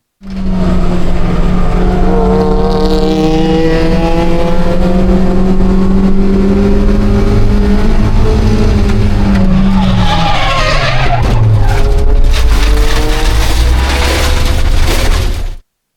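Race cars in a Roadster Cup race: a loud, sustained engine drone at high revs, falling in pitch as the cars slow, with bursts of skidding and tire noise, close and continuous throughout.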